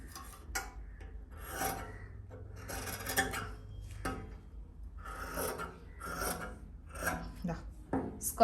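Scissors cutting fabric for a kurti's square neckline, close crisp snipping and rasping strokes in irregular bursts with short pauses between, no talking.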